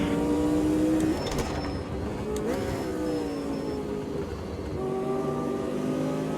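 Race car engine revving at Kyalami in Automobilista 2, a 1976-era circuit, with the throttle blipped and rising and falling pitch. Loud and close at first, then dipping briefly before climbing again.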